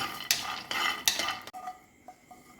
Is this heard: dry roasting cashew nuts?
yes